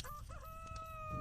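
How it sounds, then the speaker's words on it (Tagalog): A single rooster crow, fairly faint and somewhat distant, rises and wavers over a low background rumble. "Ayan, tumilaok na mga manok."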